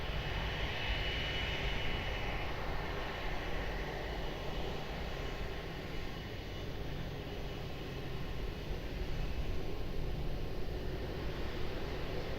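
An airliner takes off from runway 02 at Lisbon Airport, its engines a continuous broad roar heard from a distance, steady and slightly swelling with no voices over it.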